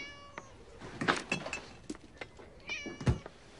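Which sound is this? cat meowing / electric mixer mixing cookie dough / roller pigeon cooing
cat meowing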